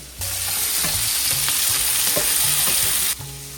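Garlic and cashews hit hot oil and fry with a bright, steady sizzle that starts abruptly and ends sharply, with faint clinks of stirring underneath.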